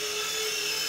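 A small three-channel 2.4GHz RC helicopter hovers low over a helipad, its rotor giving a steady, high whining buzz close by throughout.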